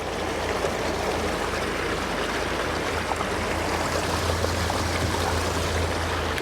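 Water rushes steadily through a gold-prospecting sluice fed by 12-volt pumps on the Yuba, a constant close broadband flow with a low motor hum beneath and no talk.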